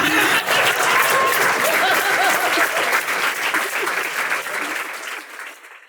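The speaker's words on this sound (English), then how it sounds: "Should we give her a round of applause?" Loud, dense audience applause fills the hall after an evening talk with Caitlin Moran, holding steady for several seconds with a few chuckles mixed in before tapering off and fading out at the end.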